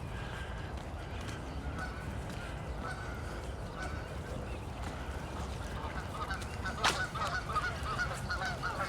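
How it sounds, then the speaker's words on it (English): Geese honk by a misty lake in Regina in April, with scattered calls at moderate distance over a steady outdoor hush and one louder honk near the end. "Birds, ducks, and geese."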